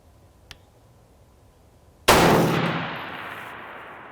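A single loud rifle shot at an outdoor range, aimed at targets 500 yards away, cracks sharply and then rolls off in a long fading echo, after a faint click beforehand.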